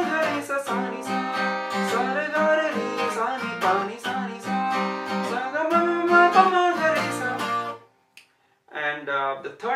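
An acoustic guitar strums the chord progression of the second part of a song in a steady rhythm. The chords ring out clearly and up close, then break briefly before resuming.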